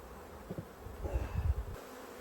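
Honey bees buzz near hives in an apiary, a faint low hum with a few closer passes swelling briefly before fading.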